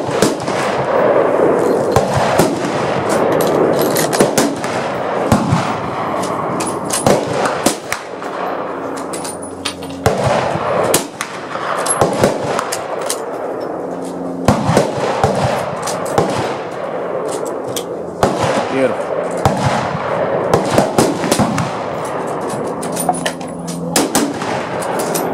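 A French Berthier carbine and other rifles fire on a shooting range firing line, with many sharp, loud gunshot cracks in irregular bursts over about twenty-five seconds, some overlapping, while people talk in between.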